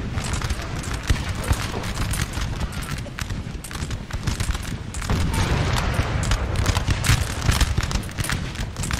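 Napoleonic Total War 3 battle with continuous massed musket volleys crackling and popping alongside booming artillery shelling, dense and sustained throughout.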